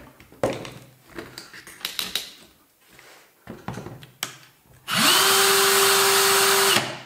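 Several clicks and clunks of handling, then an electric cordless drill whirs loudly and steadily for about two seconds before stopping.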